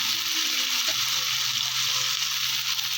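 Spices with turmeric frying in a pan, giving a steady, bright sizzle at close range that holds at an even level throughout.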